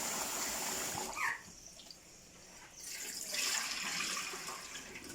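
Running water splashes and trickles steadily while rice is rinsed for a large pot of vegetarian jollof, with a brief louder splash partway through and the flow rising again near the end.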